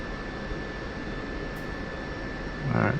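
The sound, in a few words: aircraft engine throttling up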